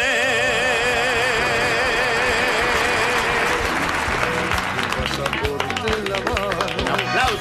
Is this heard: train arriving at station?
no